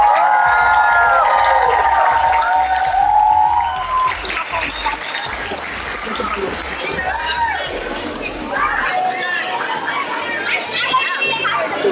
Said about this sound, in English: So let's all give each other a round of applause.